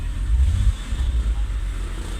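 A 2004 BMW X3 engine with a misfire idles, giving a steady deep rumble with uneven low-end pulsing and wind-like noise, loud and close, with no voices.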